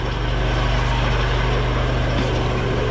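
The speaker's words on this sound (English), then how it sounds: "Most of the noise is coming from the water pump, it seems like, the fan belt train." Truck engine idling with water pump and fan belt whine, a steady loud mechanical drone with continuous rattling hum and no pauses, an exhaust fault nearby.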